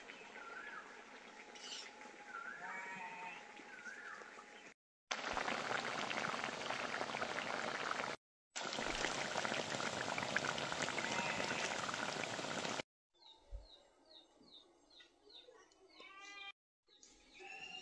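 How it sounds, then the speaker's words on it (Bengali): A fig and crab curry with cumin paste bubbles at a boil in a pot, steady close hissing and popping in a few separate stretches, with quieter outdoor bird chirps between them. "এবার তরকারিতে জিরে বাটা দিয়ে তরকারিটা ভালো করে ফুটিয়ে নেব।"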